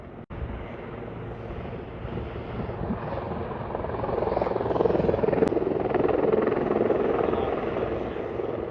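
A helicopter drones steadily, its rotor noise swelling as it draws nearer, with wind rumble over the microphone.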